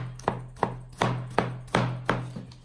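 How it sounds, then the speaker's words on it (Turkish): Tomatoes being finely chopped with a knife on a board for a belen tava dish, seven crisp, evenly spaced cuts landing close and clear over a steady low hum. "Domateslerimi de ince ince doğruyorum."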